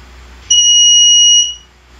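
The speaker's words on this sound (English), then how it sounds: "As you have seen, the red LED lights up and there's the buzzer component that sounded." A buzzer on a Raspberry Pi RFID door lock with a solenoid lock sounds one steady, shrill electronic tone for about a second, close and loud, then falls silent.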